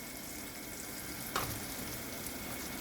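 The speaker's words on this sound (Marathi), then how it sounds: "आता आपण गिलके टाकून घेऊ" Ridge gourd pieces drop into spiced dal in a hot pan, adding a brief clatter on top of a constant, even frying sizzle that carries through the clip.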